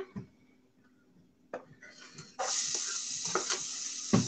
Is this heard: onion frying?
yes